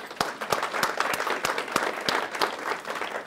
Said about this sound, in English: Let's give the gals who put this on a round of applause.